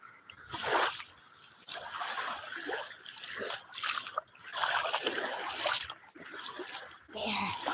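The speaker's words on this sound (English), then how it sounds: "I love the water, the waves of the water" Sea water on Boracay Island gently laps and splashes nearby in irregular small surges, with soft trickling between the waves.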